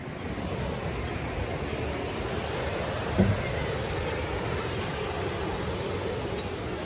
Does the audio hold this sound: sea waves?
yes